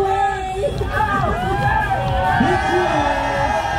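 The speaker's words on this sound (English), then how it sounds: "Let's give them a big cheer." Crowd at the Purple Parade community event in Singapore cheers and whoops loudly, overlapping shouts and high excited voices rising and falling in a dense, close burst.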